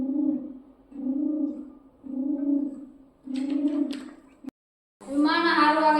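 Someone imitates the cooing of a pigeon kept in a village pigeon box. Low, rounded coos repeat in a steady rhythm, close and clear, and a sharp higher sound follows after a brief pause.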